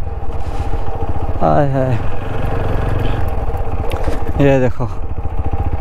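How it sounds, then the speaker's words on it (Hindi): Motorbike ridden over grass on an outdoor trail, engine droning steadily and close throughout, with two short revving rises, while someone talks excitedly over it. "घास के ऊपर से बाइक चलाने में जो फील है ना"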